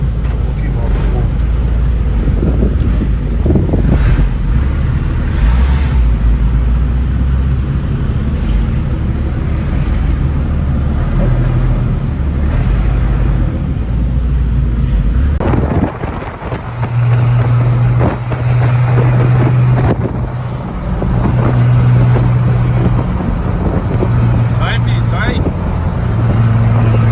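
Ford F-250 pickup truck accelerating, a loud, steady low engine drone with heavy wind buffeting, recorded from inside or near the moving truck, with a voice speaking intermittently over the roar.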